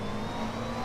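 A McLaren 650S GT3 race car in rFactor 2 at Silverstone holds a steady, loud engine drone while drifting, a continuous mid-pitched mechanical roar without breaks.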